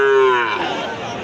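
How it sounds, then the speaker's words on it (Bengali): A local bull calf at a cattle market gives one loud, close, drawn-out low that fades over about a second. "একদম দেশি দুইটি ষাঁড় বাচ্চা।"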